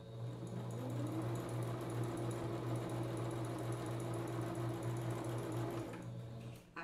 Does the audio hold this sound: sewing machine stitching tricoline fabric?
yes